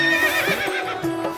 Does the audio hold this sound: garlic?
no